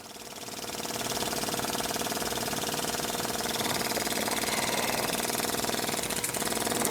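A motor runs continuously at close range, a loud, dense mechanical whir with a fast, even rattle that holds steady throughout.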